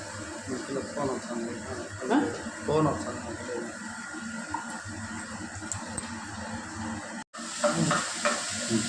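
Green chilli paste fries in a pan for egg fry, a steady soft sizzle and hiss with occasional stirring scrapes, while someone talks over it close by.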